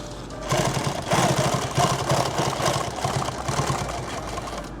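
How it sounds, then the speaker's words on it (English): A sewing machine stitches back over fabric, its needle chattering in a fast steady rhythm that runs almost the whole time, close and fairly loud with a slight pause near the start. "What I'm going to do is just sew back over again where it should have been."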